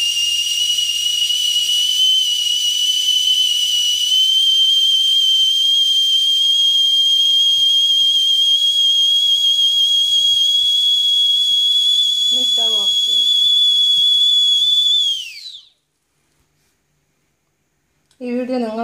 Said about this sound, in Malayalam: ഇപ്പോൾ വിസിൽ വരാൻ തുടങ്ങിയിട്ടുണ്ട്.